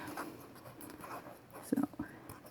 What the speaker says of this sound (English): I'm going to show you how I use markers on it.